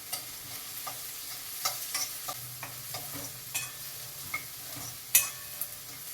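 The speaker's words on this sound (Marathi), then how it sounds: "2 मिनिटं मोठ्या गॅसवर परतून घेऊया" Finely chopped spring onion and cabbage tossed in a hot pan over a high flame for Gobi Manchurian, with a soft continuous sizzle broken by light, repeated spatula scrapes and taps, close and fairly quiet.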